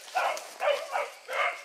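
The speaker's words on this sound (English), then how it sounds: "My beagle's got the other dogs going." A beagle and other dogs bark while chasing a small baby rabbit outdoors: four rhythmic, fairly close barks, evenly spaced, with no talking between them.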